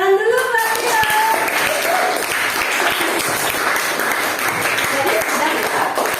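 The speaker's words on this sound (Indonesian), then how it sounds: "tepuk tangan dulu Mbak Tio" A classroom of students applauds a classmate with close, lively clapping that carries on evenly for several seconds, while faint talk sits underneath.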